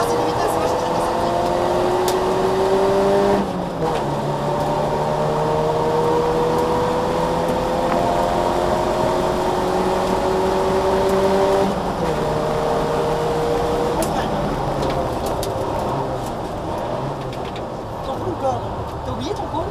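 A car driven during a driving lesson hums steadily while the engine pitch climbs and drops through several gear changes, with an instructor's voice talking over the cabin noise.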